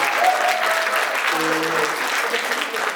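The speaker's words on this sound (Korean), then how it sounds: "박수 크게 다시 한번 부탁드리겠습니다" Loud, sustained applause from the audience at an Incheon urban farming network results-sharing event, dense clapping with faint voices and a brief tonal sound mixed in.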